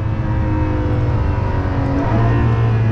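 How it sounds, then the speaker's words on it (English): Ferrari LaFerrari with a naturally aspirated V12 pulls hard from inside the cabin, a loud, dense engine roar holding steady and then swelling slightly near the end, with no talking. "that naturally aspirated V12 just sounds so ridiculous"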